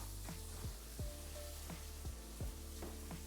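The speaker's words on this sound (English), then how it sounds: "Frying them up, getting them there, getting them nice and cooked." Eggplant frying in a pan, a steady low sizzle with soft pops and occasional clicks, faint and continuous with no talking.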